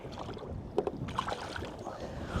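Steady wind gusting across an open lake around a small fishing boat on a sunny, blustery midday, a continuous broadband rush with a few brief louder buffets, no talking.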